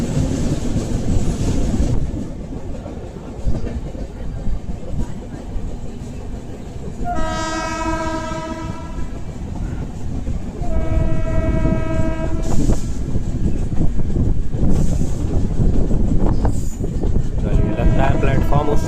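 Arunachal AC Superfast Express running on an Indian railway line near the Muzaffarpur line junction from the Barauni side, with steady rolling rumble and two long loud horn blasts, someone talking over it.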